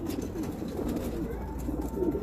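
Breeder pigeons cooing close by, a string of low, soft, repeated coos that carries on steadily through the whole stretch, with no talk over it.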